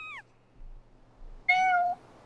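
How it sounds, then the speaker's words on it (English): A cat meows in the Skyward Sword video game: one short descending call near the start, then after a pause a loud, drawn-out meow lasting about half a second, with quiet background between. "Terrifying kitty"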